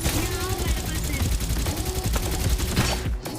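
Rapid automatic gunfire from a Farlight 84 battle royale match, dense overlapping bursts rattling loudly and continuously with little pause, stopping abruptly at the end.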